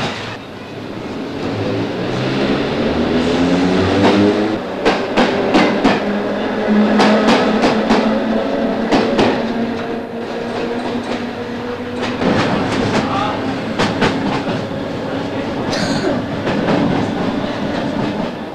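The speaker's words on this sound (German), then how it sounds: "Mit der S-Bahn fahren jeden Tag viele Menschen von einem zum anderen Ende der Stadt." An S-Bahn commuter train in 1979 East Germany runs on rails, giving a steady close rumble broken by rhythmic clickety-clack wheel beats over the rail joints, continuous and with no voices.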